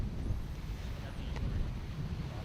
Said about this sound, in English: Wind is here.